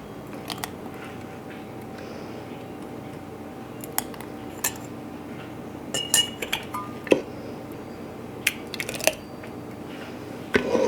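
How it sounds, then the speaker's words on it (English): Rhubarb, cranberry and raisin relish is ladled into glass jars, with scattered close clinks and taps of ladle on glass and pot, sparse at first and then more frequent. "we're just gonna start ladling it into our jars"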